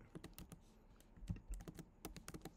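Typing on a computer keyboard at close range: irregular quick clusters of crisp key clicks with brief pauses, quiet and alone.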